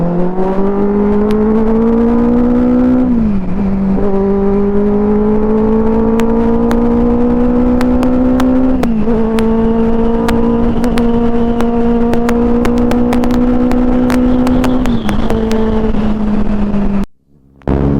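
A Benelli 600i motorcycle ridden in Coorg, its engine humming loud and close with steady drone, rising in pitch through each gear before brief dips at shifts, wind rushing alongside.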